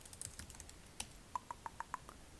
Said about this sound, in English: So, well, this could be a trigger. Typing triggers.